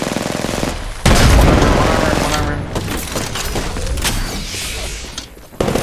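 Rapid automatic gunfire and heavy booms erupt in a first-person shooter match, loud bursts of shots with thuds and echoes, while players talk over the fighting.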